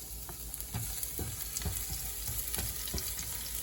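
Garlic and onion sizzle in a hot pan for a Filipino igado, a constant bright frying hiss broken by soft scrapes and clinks as the pieces are stirred.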